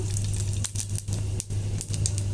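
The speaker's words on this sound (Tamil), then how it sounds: "கொஞ்சமாக உளுத்தம் பருப்பு ஒரே ஒரு வரமிளகாய் கிள்ளி போட்டுக்கலாம் இது பொரியட்டும்" Urad dal and a dried red chili frying in hot oil for a mint chutney tempering, a steady crackling sizzle with small popping spatters, close and alone.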